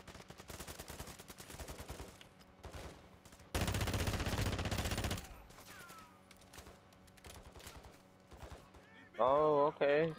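Bursts of NPC gunfire in Call of Duty MW2 DMZ: scattered rapid shots at the start, then a dense, loud volley of sustained fire midway, with voices talking nearby.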